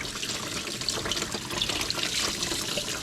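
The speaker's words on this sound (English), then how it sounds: "let's take it over to the sink. And all we're doing here is just rinsing off the salt." Tap water runs into a sink, rinsing salt off a pork belly, a steady close splashing flow with faint irregular spatters throughout and no talk.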